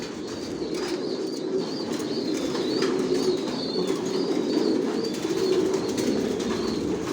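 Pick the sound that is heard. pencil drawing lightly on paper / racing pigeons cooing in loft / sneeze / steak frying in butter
racing pigeons cooing in loft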